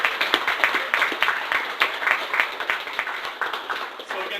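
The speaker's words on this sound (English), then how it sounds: "Round of applause for them." A crowd claps together in sustained, dense applause to honor the winners of a university debate on controversial campus speakers, the even patter running close and steady throughout with no pause.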